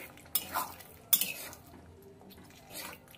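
Pieces of mutton are turned into masala in a pot, with a couple of distinct scraping, clinking spoon strokes against the metal and a soft low sizzle between them; quiet and close, no voices.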